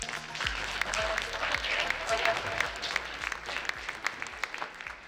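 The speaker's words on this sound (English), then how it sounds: "So please give another round of applause." Applause from an audience at a tech summit event, steady clapping of moderate loudness through the whole stretch, with a faint voice or two mixed in underneath.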